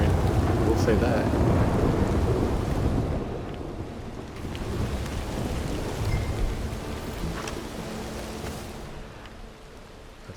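Rain falls steadily in the Red Dead Online video game, with a broad rumble of thunder at the start that fades into a continuous, softer rain hiss.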